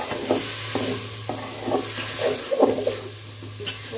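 Chopped tomatoes frying in masala for desi chicken khichdi, a close steady sizzle with intermittent spatula stirs and scrapes against the pan.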